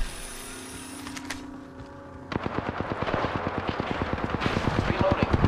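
Rapid video game gunfire in a fast, steady burst of sharp shots that starts after a quieter stretch of ambient hum and a voice, growing louder and continuing to the end.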